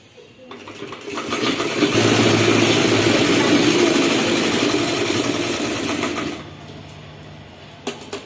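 An electric sewing machine runs steadily for several seconds, stitching the lining of a silk skirt cut from a saree, with a steady whirring hum that starts up and then stops, near and fairly loud.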